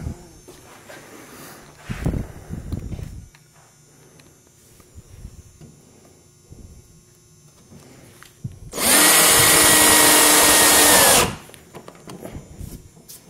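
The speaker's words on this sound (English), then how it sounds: "Got those 2 down there drilled." A power drill whines loudly for a couple of seconds while driving a screw into a wooden anti-fatigue platform, set between quieter workshop handling and a few bumps and knocks.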